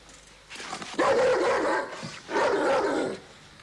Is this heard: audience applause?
no